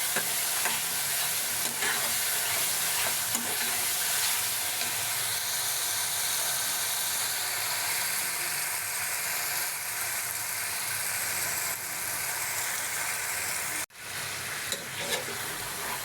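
Curry frying hard in a pan while being stirred, a loud unbroken sizzle with faint scraping underneath, briefly cut off near the end before resuming.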